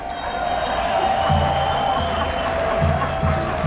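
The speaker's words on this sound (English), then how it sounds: "John Ruddick, round of applause" A large outdoor crowd at a freedom march gives steady applause and cheering, a dense, continuous roar with voices rising and falling underneath.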